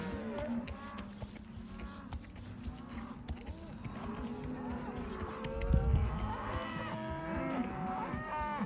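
Many cattle moo repeatedly and overlap as they are herded in Montana, a busy herd calling near and far, with faint hoofbeats and movement underneath.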